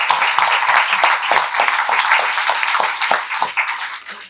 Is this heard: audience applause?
yes